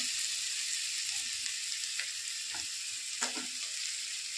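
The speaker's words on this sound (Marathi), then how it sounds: "आता आपण याच्यात मसाले ॲड करूया." Spices fry in a pan of rice for Maharashtrian masale bhat, a continuous close sizzle with a few scrapes and clinks of stirring and no talk.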